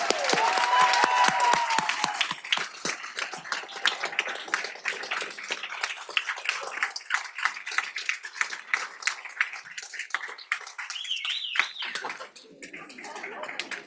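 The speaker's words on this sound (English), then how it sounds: "So how about one more round of applause for our graduates?" A crowd at a nursing college convocation claps for the graduating cohort, loud and dense at first, then thinning to scattered claps, with a few voices and a brief whoop near the end.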